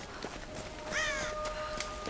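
Crows caw in a Tomb Raider forest, one loud near call with a rising, wavering tone over soft ambient noise and a few fainter calls around it.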